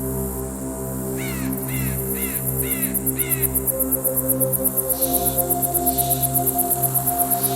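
Layered bird and insect soundscape built for sound design: repeated crow caws burst out early over a steady bed of insect drone and chirring, with a fast pulsing insect trill running high throughout and some softer bird calls later.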